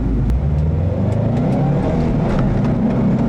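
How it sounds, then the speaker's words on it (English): Cabin of a 2012 Subaru Impreza WRX STi on summer performance tires with little sound deadening, a loud steady road and tire roar with low engine drone throughout, no talking. "you can hear there's a lot of tire noise in here. That's from the summer performance tires."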